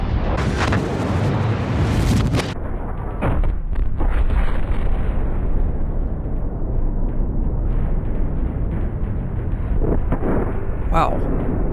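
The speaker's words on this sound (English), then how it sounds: "the explosions in this game definitely have some movie-esque qualities to them for the final endings" A ship blowing up in World of Warships: a loud, sustained explosive roar with heavy low rumble, opening with sharp bursts, then a long booming decay, with a brief voice near the end.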